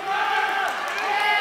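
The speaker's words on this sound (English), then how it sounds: "Crowd urging him on, both sides going." Crowd at a high school wrestling match roars steadily, a loud continuous wall of cheering and shouting close around.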